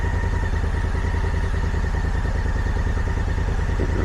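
A motorcycle engine idles loud and close while pulling into a parking spot near the summit of Pikes Peak, a steady throbbing rumble with constant clatter throughout.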